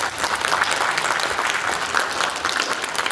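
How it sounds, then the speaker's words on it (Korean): Audience applause at a hospital medical symposium, a loud, full and steady wash of many hands clapping, unbroken by speech. "다시 한번 큰 박수 부탁드립니다."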